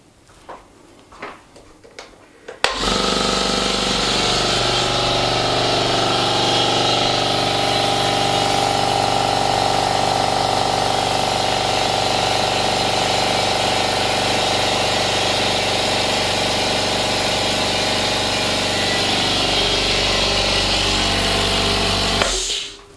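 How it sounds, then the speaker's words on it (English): A Stanley 59 dB quiet air compressor starts abruptly after a few seconds of faint clatter, then runs with a loud, steady hum and hiss until it cuts off at the very end. "then I'm going to turn on the compressor"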